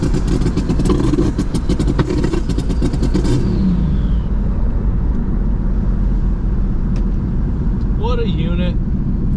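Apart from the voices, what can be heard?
turbocharged Jeep engine running and revving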